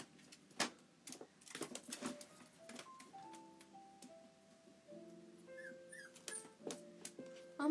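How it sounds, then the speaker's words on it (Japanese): Small pet dog whimpering and yipping in a quiet room, high thin whines rising and falling in pitch, broken by a few short sharp yips and scattered clicks, close and fairly soft. "あんま吠えないワンちゃんだけど、最近ちょっと吠え出すようになったって感じかな。"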